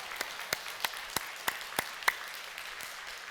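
A church congregation at a Korean Sunday worship service gives a short round of applause in thanks, heard as a few sparse, evenly spaced claps over a quiet room rather than a full ovation.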